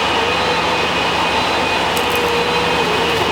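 An electric window motor whirs in a Ford Fiesta MK6 ST150 door, a steady close mechanical drone with faint higher squeaks partway through, running continuously without speech.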